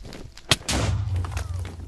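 A Minecraft explosion: a sharp crack, then a loud broadband blast that settles into a low, sustained rumble for over a second.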